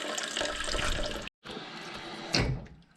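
Water rushes steadily into a Toto Aquia IV toilet tank as it refills after installation, a close hissing flow that drops out for a brief instant, surges again, then begins to ease off.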